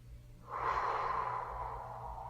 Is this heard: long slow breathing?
yes